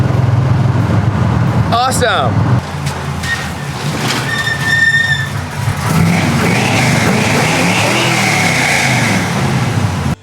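A 1975 Corvette with a four-speed manual cruising with T-tops off, its engine droning low and revving under wind noise, with brief chirps and a short spoken word partway through.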